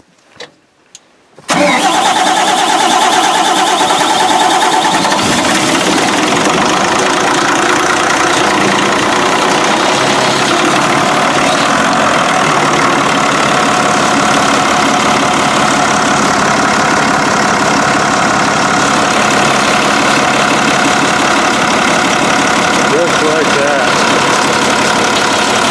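Barko 612 log loader's engine cranks and fires after a quiet start, then settles into a loud, steady close-up idle that runs without a break.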